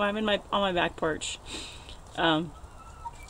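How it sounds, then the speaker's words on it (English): A rooster crows outdoors by a back porch, a brief clucking call near the start, followed by a person talking at length. "Rooster"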